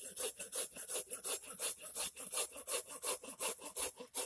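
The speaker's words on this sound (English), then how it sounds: "So I've learned with the sawing to be patient. Let the saw do the work of the cutting." Steady back-and-forth strokes of a hand saw cutting through a raw wooden spoon blank, about four strokes per second, close and clear with no talk.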